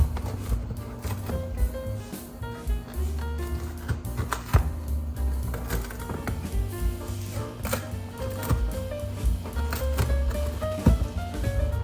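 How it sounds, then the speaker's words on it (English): A pizza cutter rolls through crispy homemade hand-made pizza crust, producing repeated crunchy cracks and crackles at an irregular pace, close and continuous over a low background hum. "my pizza cutter, and just cut. Hear that crispy crust?"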